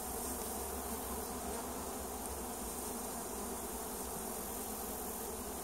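Honey bees swarm around a hive loaded with honey and brood, a dense continuous buzzing hum that stays close and steady throughout.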